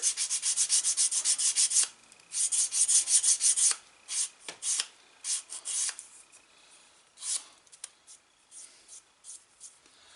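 Sandpaper rubbed along a leather edge ahead of burnishing, in a quick run of close, rhythmic scratchy strokes that thins out into shorter separate passes.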